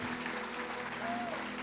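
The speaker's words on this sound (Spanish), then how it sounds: "Aplauda fuerte a Dios." Church congregation clapping loudly in praise to God, a continuous dense patter of applause at steady volume with some voices mixed in.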